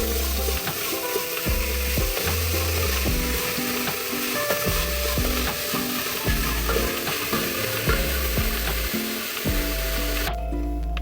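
Three large, finely chopped onions fry in a pressure cooker for biryani. A steady, close sizzle runs throughout, broken by the knocks and scrapes of stirring.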